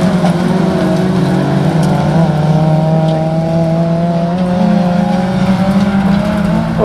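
Autograss race cars sweep through a corner on a dirt track. Their engines make a loud, continuous, overlapping drone with shifting engine pitches as several cars hold the throttle close by.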